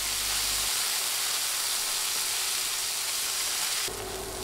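Half a cup of onions frying with spices in a pan for an egg and eggplant curry, giving a steady, dense sizzle that runs unbroken and fairly loud throughout, with no talking.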